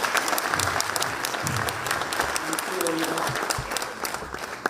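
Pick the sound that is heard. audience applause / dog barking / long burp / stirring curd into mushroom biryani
audience applause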